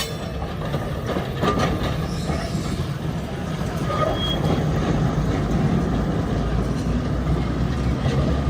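A tram runs along its track with a continuous, steady rumble, faint wheel clatter and brief squeals throughout, heard close and without pauses.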